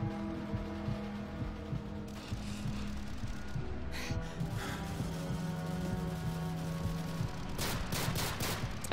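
Gunfire and mechanical clatter in Call of Duty Modern Warfare 3 on veteran mode, with ratcheting weapon handling and humming tones under a run of quick sharp shots near the end.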